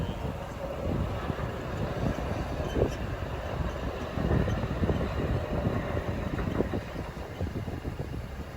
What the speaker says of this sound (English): All right, another train.